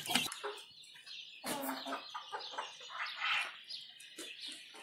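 Chickens cluck and call at a farm during feeding time, a busy run of overlapping clucks with a few sharper squawks, fairly close and carrying on without talk.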